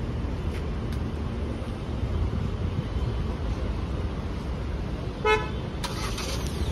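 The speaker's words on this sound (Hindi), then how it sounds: "तो अब मैं आपको ये स्टार्ट करके दिखाता हूँ इसकी स्मार्ट की से, तो पहले मैं करनी है गाड़ी लॉक, फिर ये रहा होल्ड का बटन" A Hyundai Creta SX Executive is locked and remote-started with its smart key outdoors, with one short electronic chirp late in the clip over steady wind-like background noise and no clear engine rise.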